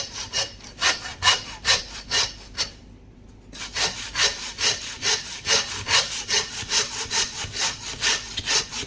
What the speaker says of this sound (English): I thought I'd show people how to do it with the saw there.